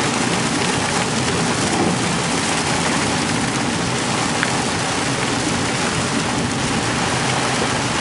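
Heavy rain pours steadily during a thunderstorm in Virginia, heard from inside a moving car as a dense, constant hiss with low rumbling underneath and no talking.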